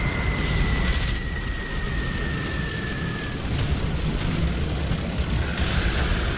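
Bombs exploding in the War Thunder battle game, a continuous dense roar of rumbling blasts and booms with a thin whistling tone early on, loud and sustained throughout.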